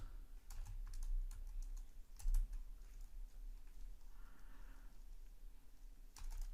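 Fingers type on a computer keyboard nearby, quiet clusters of quick key clicks in short bursts with brief pauses between, over a low steady background hum.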